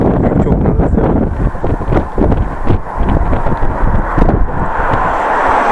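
Strong gusting wind buffets the microphone while cycling uphill on a road in Gansu, China, a loud rumbling roar with irregular flapping bursts and no speech.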